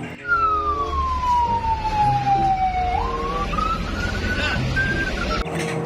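A wailing police siren sweeps down in a long falling tone, then rises again, heard over traffic rumble at moderate distance.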